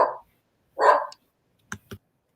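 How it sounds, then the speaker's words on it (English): A dog barks twice in short, loud bursts close by, followed by two brief sharper knocks or yips, with silence between. "I ain't never heard her bark before."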